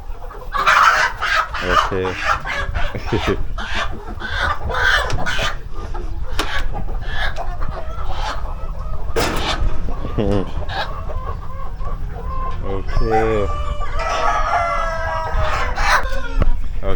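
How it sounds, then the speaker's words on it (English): Chickens on a Thai farm cluck busily and a rooster crows, loud and near, with a steady barnyard din throughout while people speak briefly over it. "so we've selected our chickens"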